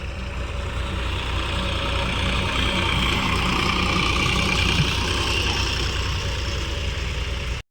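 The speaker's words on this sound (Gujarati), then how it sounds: "અને થઈ ગયા છે ચાલુ બે ટ્રેક્ટરો." Two tractors running together in a field during land levelling, a steady continuous engine drone with a low rumble that holds evenly throughout, close by and with no voices.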